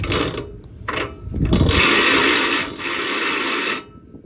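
A car engine that has sat unused for months cranks without catching: short starter bursts, then a sustained whirring crank of about two seconds and another, loud and close, with no voices.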